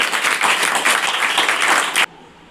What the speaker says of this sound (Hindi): तो पहले उन अभिभावक के लिए हम लोग जोरदार ताली से